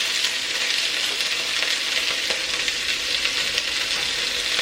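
Onion, carrots and a few potatoes sizzle steadily in a hot pan on lowered heat, a dense, even frying hiss with faint crackles throughout and no talking.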